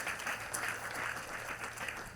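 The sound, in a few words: congregation clapping for Jesus Christ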